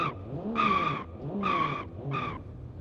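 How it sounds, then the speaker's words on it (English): Three sharp tire squeals from a 1970s Japanese sports car in BeamNG, each a loud screech under a revving engine, coming in short bursts with brief gaps between them. "Can I do a burnout?"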